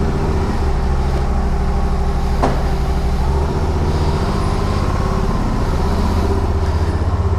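A 2012 Can-Am Spyder RS three-wheeler drones steadily at road speed, its raspy engine and wind roar constant and close, with a single brief click partway through.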